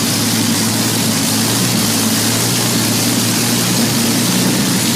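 A Rolls-Royce Merlin, a British liquid-cooled 27-litre V12 piston aero engine, roars at close range with a constant, heavy, propeller-like drone that holds unbroken and loud throughout.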